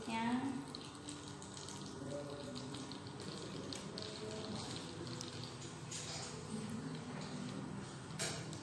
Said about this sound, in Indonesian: Ini minyaknya terus mengalir ke beberapa tempayan.